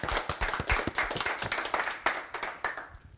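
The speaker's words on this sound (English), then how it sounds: "Can we have one big round of applause?" Audience applause fills a live speaking event, a dense, steady clatter of many hands clapping loud and close that fades slightly at the end.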